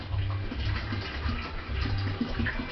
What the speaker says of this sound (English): Then you add your water.